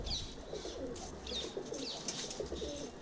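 Pigeons in a cage cooing, several soft throaty coos close by with a few higher chirps mixed in, no talking.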